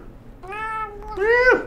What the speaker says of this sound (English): I got my f***ing cat, Jake.